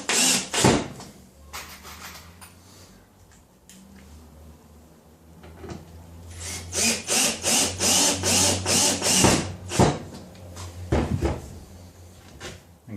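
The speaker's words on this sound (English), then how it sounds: "We'll just screw the back now." The back of a piece being screwed on with a power drill or screwdriver, with short bursts of whirring and rattling among clunks and knocks of handling, heard close.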